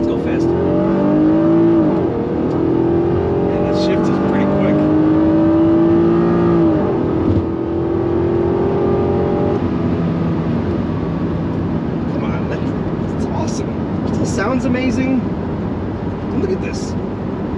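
A 1991 Acura NSX accelerating on a test drive, its engine note rising in steady pulls heard from inside the car, loud and continuous, with a person talking over it.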